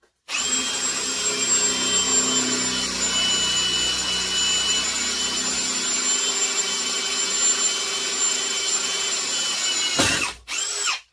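A Ryobi or CAT cordless drill at speed 2 boring into 3/8-inch steel plate with a 1/2-inch bit, a loud steady close whine held for about ten seconds before it abruptly cuts off, alone without talk.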